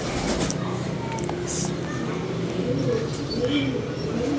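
Soft pigeon coos sound repeatedly under a steady background hum, with a few faint chirps mixed in.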